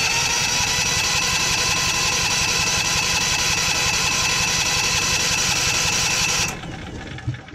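A Generac engine cranks over during a compression test, giving a loud, steady, rapid mechanical chugging for several seconds before it abruptly stops and leaves a faint residual noise.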